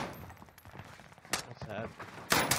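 Video game gunfire on Rebirth Island comes in a few sharp bursts of shots, with a louder burst near the end, mixed with radio-style voices and game chatter.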